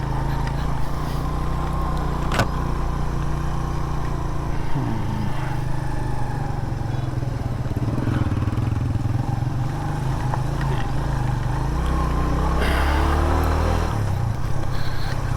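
A motorcycle engine drones steadily while riding the Taobat road in Kashmir, with shifting revs, wind rumble and occasional clatter throughout.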